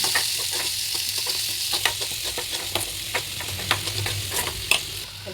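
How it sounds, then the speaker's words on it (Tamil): Onion fries in hot oil toward golden brown, a steady close sizzle with soft stirring scrapes and occasional spatters, no voices present. "ஆனியன் போட்டு நல்லா கோல்டன் ப்ரௌன் வரைக்கும் ஃப்ரை பண்ணிக்கலாம்."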